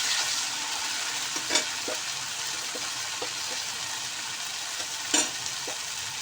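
Tomato paste sautéing in a pan for an okra masala, a steady sizzle and fry running throughout with a few soft scraping stirs of the spoon at intervals, close and continuous.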